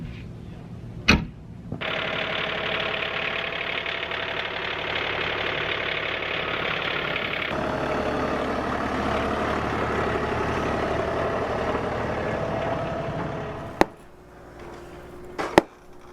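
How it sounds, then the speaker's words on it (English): Tractor engine running at a steady low idle for most of the stretch, close and continuous, with a few sharp knocks near the start and end and no talk. "So I'm gonna run and grab the tractor."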